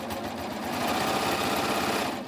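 A sewing machine runs a steady, fast, close whir while topstitching a knit neckband on a simple tee with matching thread, with no talk.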